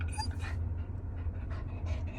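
A dog panting rapidly with occasional high whimpers, eager to meet other dogs walking by at a park; steady close breathing over a low background hum, no talking.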